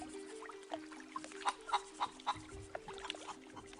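Chicken clucks in The Curse of Monkey Island, a cartoon pirate adventure game, sounding as a string of short clucks over a steady low hum, moderately close and with no talking.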